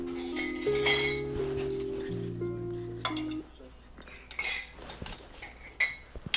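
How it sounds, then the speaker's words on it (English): Forks, spoons and dishes clink at a table during a Serbian meal, with a sustained tone early on and scattered sharp clinks under nearby talk. "Grab some cutlery."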